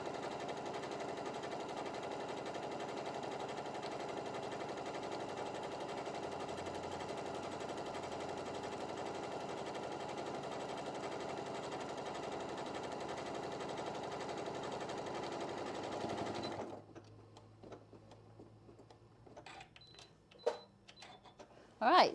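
A sewing machine stitches an apron in one long continuous whirring run, steady and close. It then stops abruptly, leaving a few clicks and handling noises in a quieter room.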